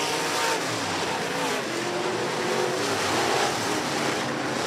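Race cars roar around the Willard Speedway track in a weekly division feature, a dense continuous engine noise heard from the grandstand with no breaks.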